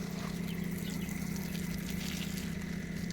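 Water runs steadily from a small garden hose at low tap pressure onto potted plants, a continuous close trickling wash with no pauses.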